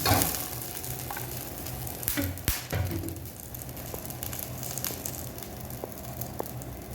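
Cumin seeds frying in hot oil for a Chettinad beef gravy, giving a steady close sizzle with light crackles and a few sharp pops and taps from stirring, with no one talking.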